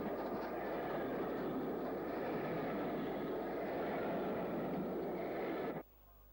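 Steam locomotive 73140, a Patricroft engine, running downhill near Ruabon at the head of a southbound passenger train, a steady broad rumble and roar that holds evenly, then cuts off abruptly near the end.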